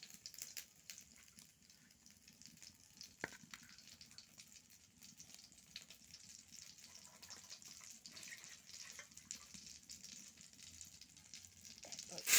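Bay leaves and cumin seeds sizzle in hot oil at the start of a home-cooked chicken curry, a steady soft crackling hiss with light stirring, fairly faint and continuous, with no talking.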